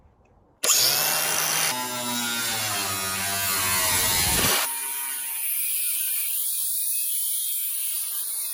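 Power drill screwing through thin shed panel into wood, a loud close whining buzz that shifts pitch as it bites, then cuts to a quieter continuing hum, with no talk.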